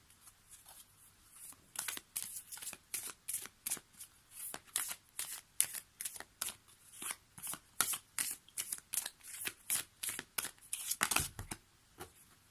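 Oracle cards are shuffled by hand in quick, close riffles, a long run of rhythmic papery flutters and snaps with no one speaking.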